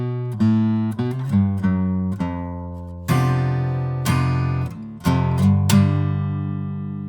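An acoustic guitar plays the closing tag of a song, a series of strummed and struck chords in a slow, deliberate rhythm, each ringing out before the next, close and alone.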